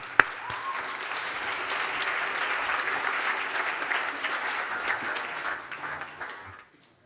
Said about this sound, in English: Let's give a big, warm round of applause to George Washington High School.